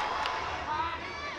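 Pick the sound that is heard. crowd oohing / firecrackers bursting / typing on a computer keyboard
crowd oohing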